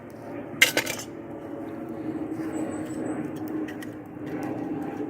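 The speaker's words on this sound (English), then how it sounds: "Pot for boiling water." A camping pot for boiling water handled inside a car gives a couple of sharp metallic clanks near the start, then quiet rustling over a low steady hum.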